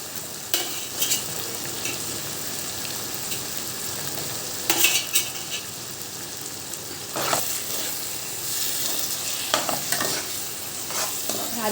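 Fried potatoes sizzle in hot oil in a pan while a spoon stirs them, with scraping clinks against the metal over a steady frying hiss, close and moderately quiet.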